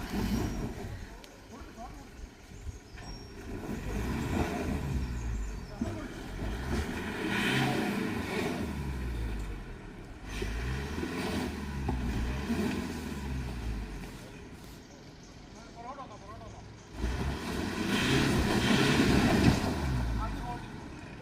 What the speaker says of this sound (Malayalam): അടുത്തത് പജീറോ സ്ട്രഗിൾ ചെയ്യുന്നുണ്ട്